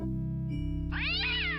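A cartoon cat in the adventure game Day of the Tentacle lets out a single drawn-out meow over steady game music, clear and close, filling the second half of the moment.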